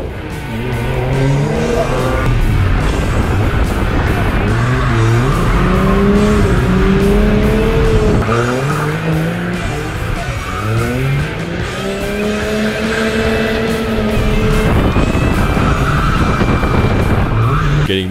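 A BMW drifting around a track cones course in second gear, with loud continuous engine revving and rising, falling tire squeal throughout, close and sustained with no pauses.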